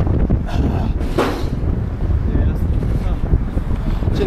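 Strong wind buffets the microphone atop the Kaunas Ninth Fort, a steady loud rumble with gusts throughout, and a faint bit of talk in the background.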